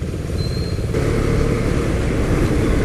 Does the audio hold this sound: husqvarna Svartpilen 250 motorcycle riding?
yes